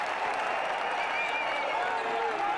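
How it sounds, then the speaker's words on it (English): Club Nacional fans cheer and applaud in the arena during a basketball quarter-final against Halcones de Xalapa, a steady, dense crowd roar that holds for a few seconds with a commentator's voice running over it. "Finally, the Nacional fans with a little something to cheer about."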